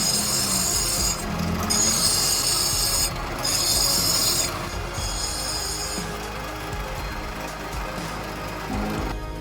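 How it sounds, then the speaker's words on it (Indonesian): A stone ring from Garut is rubbed and polished around its rounded edge with loud, steady rasping strokes that sound close and continuous. Nobody talks. "Segera saja kita gosok bagian lingkaran."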